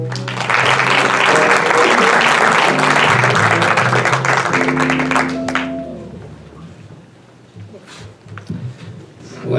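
An audience at a live talk event applauds to welcome a speaker named Alan Wickham, with dense steady clapping for about five seconds that then fades, followed by quieter room noise and scattered sounds.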